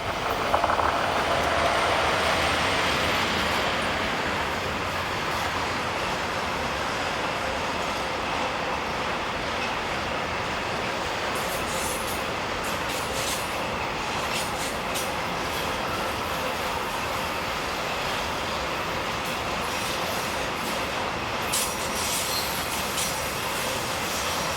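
Two Swiss Re 6/6 Class 620 electric locomotives, 620.062 and 11339, haul a train beside Lake Thun, a continuous rolling roar with faint wheel squeal and light clatter, loudest early and then holding steady.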